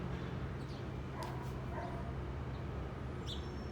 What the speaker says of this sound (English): Sounds like a fucking robotic dog.